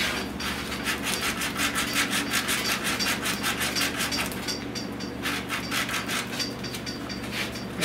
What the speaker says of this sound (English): just with 36 grit, this side was done and it's dry already now. I just want to sand this down.